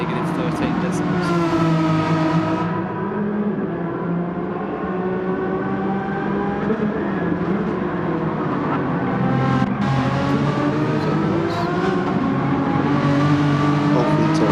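Simulated race cars lapping Laguna Seca in a racing video game, a continuous loud engine drone with rising and falling pitch sweeps as the cars accelerate and shift, with talk running under it throughout.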